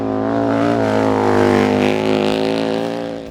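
Indian Scout FTR750 flat-track racing motorcycle on a dirt speedway track: a loud, close engine drone holding a steady high pitch with slight rises and falls, fading a little at the end.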